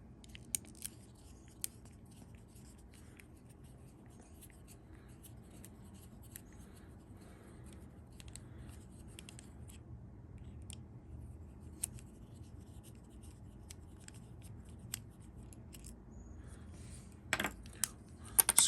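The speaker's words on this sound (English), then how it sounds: "Screwing ASMR." Small screws are driven into the plastic parts of a Baiwei TW-1030 SS102 Optimus Prime toy robot during assembly: quiet, scattered clicks and light scraping taps, close and intimate over a faint hum, with no talking.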